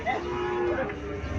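A local desi cow on a farm near Comilla gives one long, loud, close moo that fills the moment, with a low droning tone and no talking.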